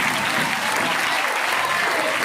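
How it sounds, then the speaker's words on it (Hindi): Audience applause at a seminar hall event on careers after 10th and 12th grade, a steady, dense wash of clapping from a sizable crowd, continuous and loud with no breaks. "तालियों से और एक बार सरकार"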